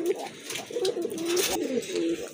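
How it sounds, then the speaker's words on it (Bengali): Giribaz pigeons cooing close by, a steady run of soft, throaty, rolling coos with no talking. "আরেক জোড়া গিরিবাজ কবুতর আছে, খুবই সুন্দর, অনেক বিগ সাইজের কবুতর"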